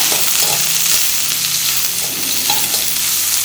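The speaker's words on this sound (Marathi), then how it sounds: "एक मध्यम साईजचा कांदा उभा उभा चिरलेला फ्राय करून घ्यायचा" Sliced onion frying in two spoons of hot oil in a pan, a loud, steady, close sizzle that runs without a break and without talk.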